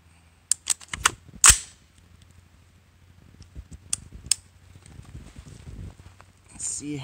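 Gunshots fired with a cheap clip-on brass catcher collecting the ejected shells, a few sharp close cracks spaced apart, followed by quieter rattling and clicking of casings.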